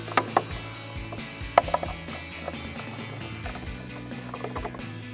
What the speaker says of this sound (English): We're going to grab more of our Phillips head / 10mm screws with our magnetized screwdriver.